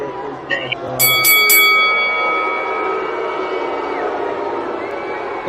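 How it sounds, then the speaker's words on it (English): A hand bell rings in a quick burst of three or four clangs, bright and close, over a steady background of crowd noise and chatter that continues as the ringing fades. "Where's my bell at?"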